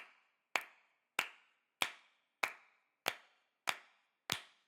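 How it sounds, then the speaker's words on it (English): Layered hand claps and finger snaps recorded in several tracks land as seven sharp, evenly spaced hits with quick decays, crisp and close against near silence. "I just recorded in a few different tracks of me clapping and snapping."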